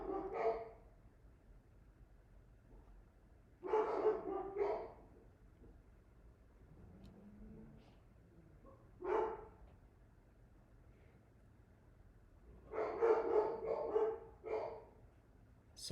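Several dogs bark in short bursts, clustered in three or four bouts with quiet gaps between, fairly near and moderately loud over a low background hum.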